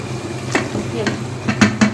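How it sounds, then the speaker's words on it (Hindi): Chicken for Karachi-style biryani sizzles in a pan over high heat, with a steady close fry hiss and several scraping stirring strokes of a spoon against the pot. "बस अब थोड़ा सा तेज़ आंच करनी है और अच्छे से थोड़ा सा भून लेना है"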